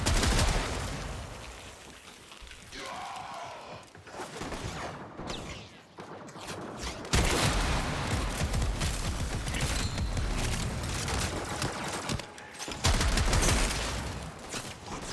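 Rapid gunfire in the Warframe video game, dense bursts of shots rattling loudly almost without pause, with short gaps and a louder volley near the end.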